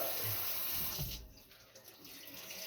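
Tap water runs into a sink for about a second to wet a rag, a steady hiss that cuts off sharply, followed by quieter room tone.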